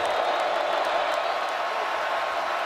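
A football stadium crowd at a 2018 Wake Forest versus North Carolina State college game keeps up a dense, steady roar of cheering throughout, heard with no single voice rising above it.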